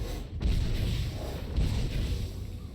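A firing attack effect in the card game Legends of Runeterra lands as two deep, booming artillery-like blasts, loud and close, each followed by a rumbling tail.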